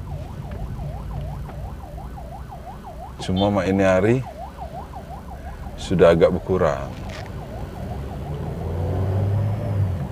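An ambulance siren wails in a steady, rapid up-and-down cycle through Jakarta street traffic, moderately near, over road and engine noise, and someone talks over it in two short bursts.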